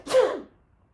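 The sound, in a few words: sneeze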